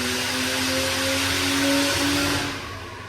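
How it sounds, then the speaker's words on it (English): A car engine running on a dyno in a nearby shop, a steady broad roar with a droning whine that rises slightly then eases off toward the end, heard at a distance in the background. "that noise in the background. The boys are dynoing over there,"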